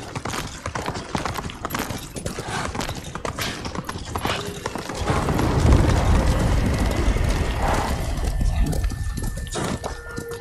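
Steady clip-clop of horse hooves trotting along in Ghost of Tsushima, close and continuous, growing heavier and fuller partway through.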